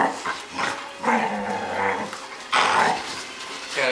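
A Catahoula Leopard Dog and an Australian Cattle Dog wrestle in play, giving close, loud rumbling growls and snarls that rise and fall in bursts, with brief whimpering in between and no talk.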